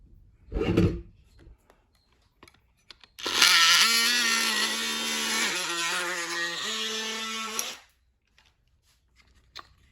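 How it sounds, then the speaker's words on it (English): A grinder whines harshly for about four seconds as it cuts metal tabs off a power wheels gearbox part, preceded by a short knock and followed by quiet. "now that we grinded those tabs off"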